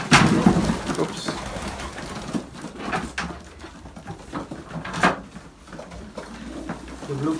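Racing pigeons in an Olympic pigeon loft give soft repeated cooing, mixed with fluttering and scattered knocks, while people talk close by.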